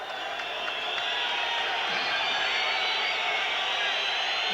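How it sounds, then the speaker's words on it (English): Boxing arena crowd after the Tony Sibson versus Louis Acaries verdict, a dense, sustained roar of voices with scattered shouts and jeers, steady and loud throughout the short stretch. "And a bit of jeering going on"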